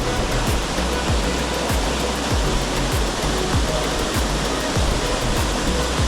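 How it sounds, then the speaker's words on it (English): Upper Race Brook Falls, a waterfall on a hiking trail, gives a loud, steady broadband roar of falling water that fills the whole stretch with no talk. "This is what is frequently referred to as Upper Race Brook Falls."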